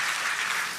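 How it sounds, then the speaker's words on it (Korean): A church congregation claps for a small child during a revival meeting, a dense, steady wash of many hands held evenly for a brief moment with no voices on top. "우리 애기 박수 한번 해주세요"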